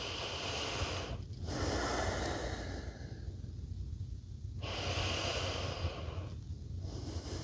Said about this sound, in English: let's take 1 or 2 cleansing breaths in and out through both nostrils